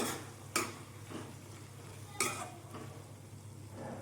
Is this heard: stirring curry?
yes